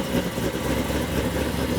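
A truck engine idles with a lumpy lope at a collector car auction, a continuous low rumbling drone at steady level, close by and without talk.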